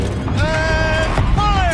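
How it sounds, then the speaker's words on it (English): A rotating gun turret in the video game Horizon Zero Dawn produces a whining, creaking mechanical groan with rising and falling tonal sweeps, loud and close, over a rumbling low background. "Rotate turret!"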